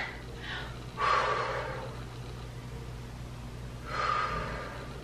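Two sharp, forceful exhales through the nose and mouth during a dumbbell shoulder press, spaced about three seconds apart, close and breathy over a low steady hum, no talking.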